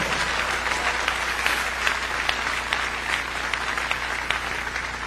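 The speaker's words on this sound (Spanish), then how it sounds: "Dele fuertes y aplausos al Señor." A church congregation applauds during a pastor's testimony, a continuous, even roar of clapping from many people, with a low steady hum running underneath.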